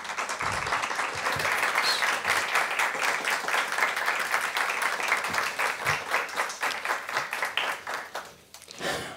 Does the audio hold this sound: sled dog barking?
no